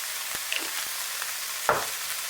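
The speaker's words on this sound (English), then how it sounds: "Add your carrots and stir." Carrots and thyme fry over a soft, steady sizzle in a pan for Cameroon-style fish roll filling, with a few sparse utensil scrapes and one sharper clink near the end.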